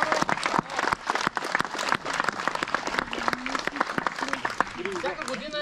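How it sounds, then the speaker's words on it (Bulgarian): Applause and cheering from a crowd at the finish of a 24-hour marathon race, dense clapping running steadily throughout with voices calling out over it. "първо мога да се зарадвате на себе си с едни аплодисменти"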